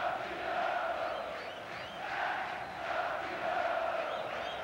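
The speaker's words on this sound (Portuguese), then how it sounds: "o grito de é campeão possa ecoar no Maracanã e em todo o Brasil" Botafogo supporters at the Maracanã chanting "é campeão" at the 2006 Campeonato Carioca final against Madureira, a huge rhythmic stadium chant rising and falling in waves, distant and reverberant.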